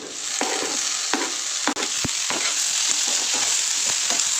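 Tomato halves tossed into browned onions frying in a pan give a steady hot sizzle, broken by several scraping stirs and a few sharp utensil knocks, close and loud with no voices.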